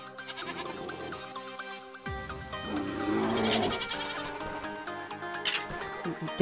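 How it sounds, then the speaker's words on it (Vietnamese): Goats bleating in Minecraft, several wavering calls over a backdrop of game music, moderately loud and close. "Mấy con dê thì chỗ khác đi."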